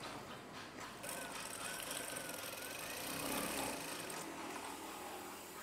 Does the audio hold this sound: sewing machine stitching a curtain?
yes